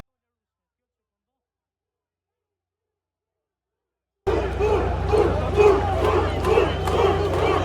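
Angry protesters shout as a crowd at a police blockade. After several seconds of silence, a loud, dense roar of massed voices starts suddenly and stays steady to the end.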